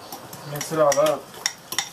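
Seasoned ingredients with black pepper and salt are mixed in a bowl, a short burst of utensil clatter and scraping with a few light clinks, near and fairly loud.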